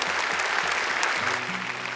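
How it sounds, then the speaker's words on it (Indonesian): Audience applause fills a televised Quran recitation competition, a steady dense clapping wash held at constant loudness for the full two seconds, with faint tonal music underneath. "Boleh tepuk tangan lebih meriah lagi untuk Al-Karim"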